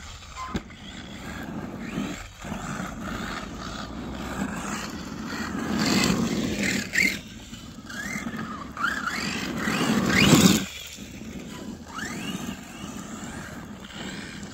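Xmars RC truggy driving outdoors near Lieuran-lès-Béziers, a buzzing electric motor whine that rises and falls as it accelerates, with creaks and rattles of the chassis over rough ground, moderately close, no talk.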